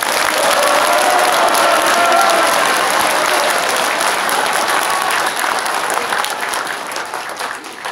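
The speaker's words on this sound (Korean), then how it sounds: "지만원 박사님께 다시 한번 박수 부탁드립니다" Audience at a Korean lecture event applauds Dr. Ji Man-won in a loud, sustained round of clapping that lasts about eight seconds and fades slightly toward the end, with no speech over it.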